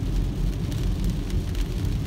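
Heavy rain with gusting wind pours down steadily outdoors, a dense, loud, continuous wash of noise with no voices.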